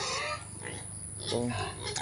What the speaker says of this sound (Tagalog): Ayan po ang aking mga alaga na baboy.